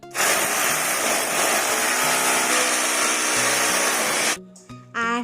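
An electric drill bores into a wall to hang a photo, giving a loud, steady, close motor whine for about four seconds before cutting off, followed by a couple of short bursts.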